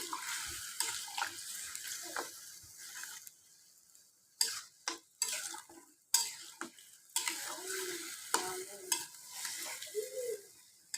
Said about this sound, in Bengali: মশলার সাথে মাংসটা খুব ভালোভাবে মাখিয়ে দিচ্ছি